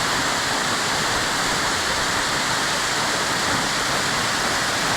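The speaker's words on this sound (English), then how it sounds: "awesome little waterfall." Spruce Flats Falls roars steadily and close, a dense, unbroken rush of falling water filling the whole stretch with no voices.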